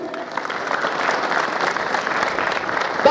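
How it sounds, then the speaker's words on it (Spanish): An audience applauding graduating students at a school graduation ceremony in Huacuyo, Copacabana, steady dense clapping from a crowd throughout. "Fuerte los aplausos, por favor."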